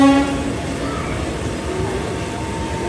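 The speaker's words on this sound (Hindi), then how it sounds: "सामने हमारे बेगमपुरा एक्सप्रेस फिर से हमें क्रॉस कर रही है।" The Begampura Express rumbles past on an Indian railway line, a loud continuous rolling roar heard up close, opening with a brief horn tone.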